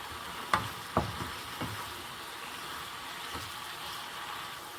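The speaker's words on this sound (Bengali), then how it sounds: "ভালোভাবে আমি মিক্স করি নিয়ে" Bok choy seasoned with black pepper sizzles and is stirred in a pan, a soft, continuous frying hiss broken by a few sharp utensil scrapes and taps near the start, quiet and close.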